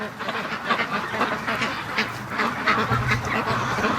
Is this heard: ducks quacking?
yes